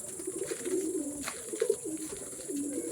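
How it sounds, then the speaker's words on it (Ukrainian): A racing pigeon returning from a flight coos softly in repeated low, throaty phrases, fairly close, with faint background hiss and no talking. "З льоті повернувся голуб."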